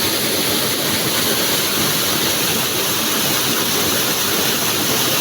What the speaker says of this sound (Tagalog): andito po tayo ngayon sa Magibway Falls